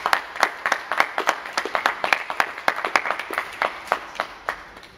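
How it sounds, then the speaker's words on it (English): A university Toastmasters club audience claps steadily for several seconds, producing a dense, fairly even patter of sharp hand claps at moderate loudness with no voice over it. "in between your huge round of applause"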